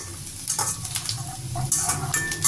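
Pirandai (veld grape) sautéing in sesame oil in a pan, with a close, steady sizzle and spoon scrapes and stirring clatter at intervals.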